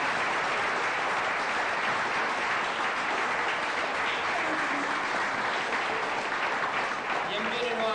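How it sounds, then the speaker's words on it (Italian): An Italian audience applauds the author of a comedy and poem, heavy continuous clapping from a full room that stays loud throughout, with faint voices and cheers mixed underneath. "facciamoci un applauso a Catina"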